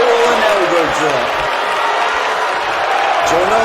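A wrestling crowd cheers and applauds steadily throughout, a dense roar with whistling and shouts mixed in, with a commentator's voice running under it.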